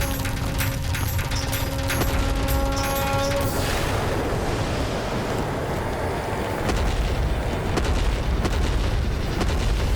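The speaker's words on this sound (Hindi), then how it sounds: "विस्फोट।" A booming explosion from a Hindu mythological drama about Shiva and Kali, starting over sustained ringing tones and then breaking into a loud, dense rumble that continues for several seconds without voices.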